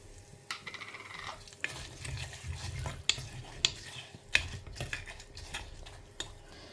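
Mustard seeds spluttering in hot oil during tempering for a traditional Tamil Brahmin meal: a soft constant sizzle broken by scattered sharp pops and crackles, close and fairly quiet, with no talking.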